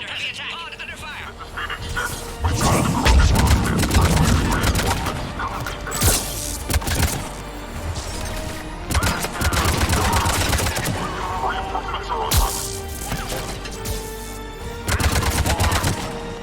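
Heavy gunfire rattles through a battle while a pod comes under attack in Mass Effect 3, dense bursts of shots and impacts continuing steadily under game speech and radio chatter.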